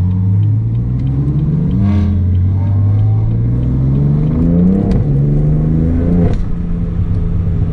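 A BMW M4 Competition running Stage 1 engine and gearbox software revs up and down repeatedly. Its deep, loud engine note climbs and falls in several sweeps, with sharp crackles as the throttle drops.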